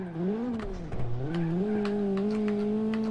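A car brakes hard in the BeamNG.Drive driving game, with its engine tone dipping and rising and a tire squeal running through the middle, loud and close, with no talk.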